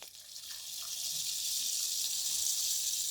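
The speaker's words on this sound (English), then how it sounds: "So let me now put the grains in while I'm stirring" Grains being poured into hot brewing water while it is stirred, heard as a steady, close hiss of water and pouring that builds slightly and carries on for about three seconds with no talking.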